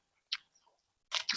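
Close, crisp crunching bites into crispy fried salted fish eaten at breakfast, one sharp crunch followed by a quieter pause, then a second burst of crunching.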